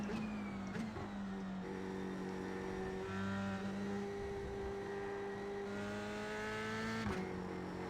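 F3 race cars in the iRacing video game hold a steady engine whine down the Kemmel straight at Spa. Close engine tones rise and shift as other cars run alongside in the slipstream, with a brief gear-change blip near the end.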